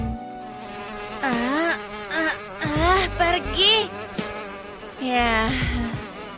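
A housefly buzzes in an animated Christmas food-challenge cartoon, its whine loud and close as it rises and falls in pitch in darting bursts, and a couple of short spoken words break in.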